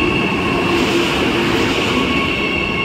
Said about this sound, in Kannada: ನಮ್ದು ಫಸ್ಟ್ ಟ್ರೈನ್ ಒಂದೇ ಭಾರತ್ ಇದು